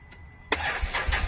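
A Can-Am Maverick Sport XMR fitted with a Yoshimura exhaust cranks and fires up, a short starter whir giving way to a loud, bassy idle with uneven pulsing.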